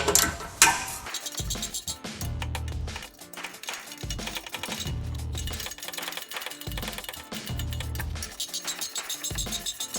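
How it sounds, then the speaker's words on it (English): Standard wrench loosening the rear exhaust bolts near the muffler hangers under a Honda Civic Si sedan, a run of metallic ratcheting clicks and clinks in repeated bursts, close up and alone. "I'm just going to be using a standard wrench"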